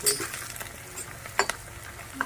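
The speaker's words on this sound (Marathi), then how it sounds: "मिरची हे परतली छान" Green chilies sauté quietly in a pan with a faint sizzle, broken by a few light clinks of a spoon against the cookware.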